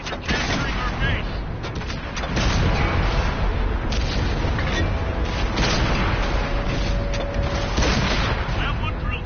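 Tank cannon fire in World of Tanks, heavy booming shots and impacts repeated amid dense game noise and engine rumble, with speech over the action.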